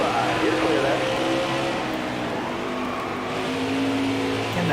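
Race truck engines roar steadily from the NASCAR Heat 5 game during a Gander Truck Series race at Bristol, a continuous dense drone with shifting pitch under constant talk.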